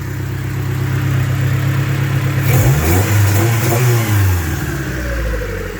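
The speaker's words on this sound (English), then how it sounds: "Holds idle if I rev it." A car engine at a raised fast idle is revved up twice in quick succession around mid-clip, rising and falling, then drops back to a steady high idle; close and loud, with no talking.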